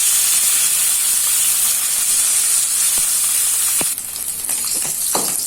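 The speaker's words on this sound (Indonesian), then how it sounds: "Jadi ini untuk ikan pindangnya saya goreng dulu." Pindang fish dusted in wheat flour frying in hot oil, a steady dense sizzle and hiss throughout with a few sharp pops near the end as the crackle thins slightly.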